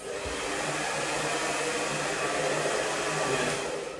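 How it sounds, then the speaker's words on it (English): A blow dryer held nozzle-down while drying a client's hair, giving a steady, loud, close whooshing roar that stays even from start to finish. "when you're blow drying, always keeping the blow dryer facing down"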